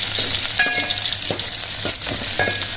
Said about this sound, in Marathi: चांगली फोडणी तयार करून घ्यायची